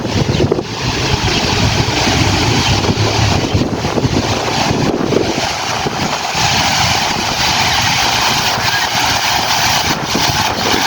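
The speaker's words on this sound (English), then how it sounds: "So these are the fountains in St. Petersburg in Lenin Square." Fountains in Lenin Square, St. Petersburg, sending out a continuous broad rush of splashing water, loud and steady with gusty wind noise on the microphone and no talk.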